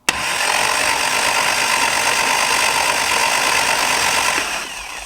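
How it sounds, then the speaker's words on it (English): A Lotus 7 Birkin engine is cranked over by its starter, a loud, steady mechanical whirring and churning that starts abruptly and holds evenly for about four seconds before fading slightly. "we're going to swing the motor to see if we can obtain oil pressure"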